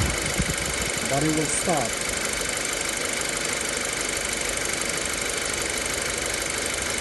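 Radiator fan on a 2007 Audi A4 2.0T whirring steadily as a broadband rush that continues after someone speaks briefly near the start.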